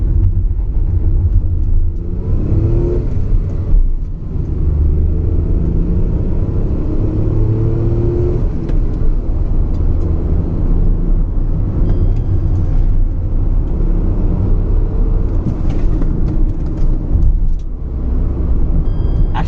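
A Tata Nexon accelerates from a standstill toward 100 km/h, a loud, continuous engine rumble from inside the cabin with faint rising revs and shifts, steady road noise throughout and no talk.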